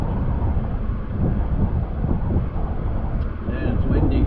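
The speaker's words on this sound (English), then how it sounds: "Yeah, it's windy." Strong wind buffets the microphone in a continuous low roar high up beside a highway billboard, with a faint voice barely audible near the end.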